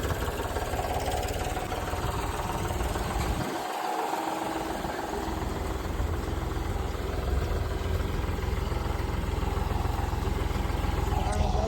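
A tractor engine idles and rumbles throughout, loud and close, in a farm field before sowing peanuts, with a constant low drone and a brief dip in the low end partway through.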